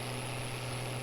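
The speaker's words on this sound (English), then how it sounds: "The pulling power on this tractor sounds fantastic." An Allis Chalmers 7000 series tractor, rated around 145 horsepower, pulls a plow in Farming Simulator 22, giving a steady, loud engine drone with a constant low hum that never changes pitch.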